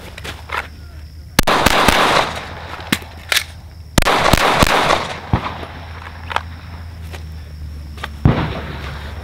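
Gunshots at an outdoor shooting range during timed drills with a Radian Ramjet-equipped rifle, loud close cracks in quick strings and isolated single shots, separated by brief quiet stretches.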